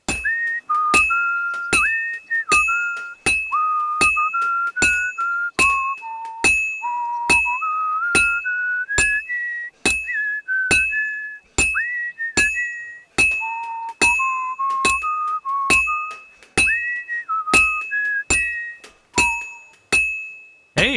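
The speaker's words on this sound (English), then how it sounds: "that was like almost a full song worth of whistle" Tune whistled in Kingdom Come: Deliverance II, a steady melodic line of sustained notes shifting pitch, punctuated by regular sharp clicking ticks across the whole stretch, loud and close with no speech.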